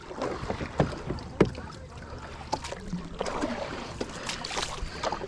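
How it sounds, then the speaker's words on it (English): Paddle strokes from a Hoodoo Tempest 120 hybrid kayak, non-pedal version, dipping and pulling through water, with a few distinct splashes and steady trickling, light wind noise around it and no talking. "We shall paddle on."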